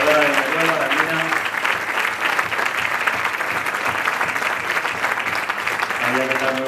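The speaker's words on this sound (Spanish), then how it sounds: "Pido un fuerte aplauso para María Cabañas" Sustained applause from an event audience greeting cyclist María Cabañas, a steady dense clapping that fills the whole stretch, with a few voices talking briefly at the start and end.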